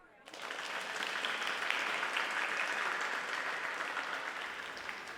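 Applause from a crowd in a comedic podcast sketch, starting suddenly after a brief quiet moment and holding steady as a dense wash of clapping.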